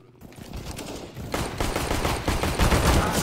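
Rapid pistol gunfire in the video game CS:GO on a custom McDonald's map, a dense, loud run of shots with continuous overlapping reports.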